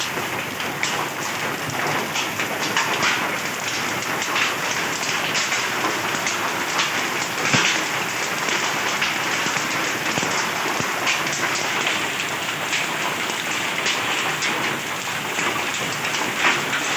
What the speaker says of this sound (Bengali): মুষলধারে বৃষ্টির সঙ্গে সঙ্গে এই পাথরটা শুরু হয়